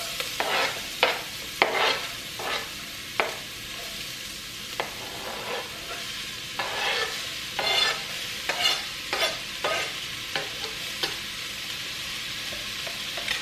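Diced squash, corn, green chile and about five cloves of minced garlic are stirred in a pot, with repeated spoon scrapes and soft clatter over a continuous sizzle, close and fairly loud with no talking.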